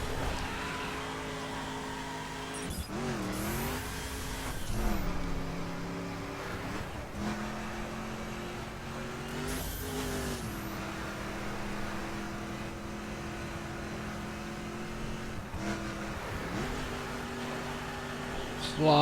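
A 1969 Dodge Charger R/T HEMI in the video game The Crew drifts through corners, its engine droning steadily with repeated rev swoops and gear changes, heard under someone talking.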